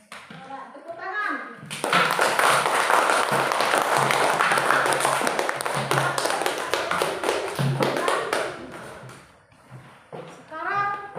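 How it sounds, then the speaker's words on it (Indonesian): Classroom applause, hands clapping in a dense, sustained burst for about six seconds that tails off, with a voice speaking before and after. "Tepuk tangan."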